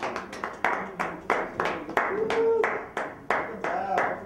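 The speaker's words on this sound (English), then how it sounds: "let's give them a round of applause" A small audience at an intern program's closing performance claps after the performers bow, the hand claps coming as sharp, fairly regular strokes with a tonal whistle or voice rising briefly in the middle, moderately close.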